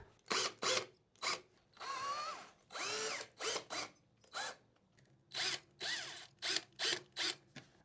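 Power drill boring holes into a wall for mounting an entryway panel, heard as repeated short whirring bursts with gaps between them, some rising in pitch as the bit spins up, close and fairly loud with no talking.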